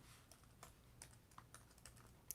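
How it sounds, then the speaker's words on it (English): Quiet, irregular clicks of keys being typed on a computer keyboard, a rapid flurry at the very end, with no talking. "I'm trying to type and it's not typing."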